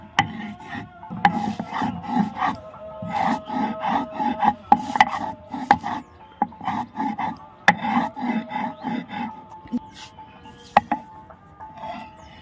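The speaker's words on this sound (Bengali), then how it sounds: "এক এক করে সব মশলাগুলো বেটে নিব আদা রসুন পেঁয়াজ টমেটো কাঁচা লঙ্কা শুকনো লঙ্কা" Ginger, garlic, onion, tomato and green and dried chillies being ground by hand, with rhythmic rubbing, rasping strokes in repeated bursts and occasional sharp knocks, close and fairly quiet.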